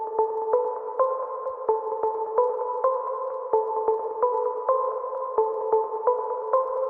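A synthesizer holds a steady two-tone sine drone, with sharp clicks marking each new note in a regular, slightly uneven pulse.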